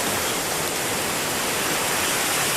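Fast river water rushing past during a morning bath by rice fields, a loud, steady, broadband roar filling the whole moment with no voices.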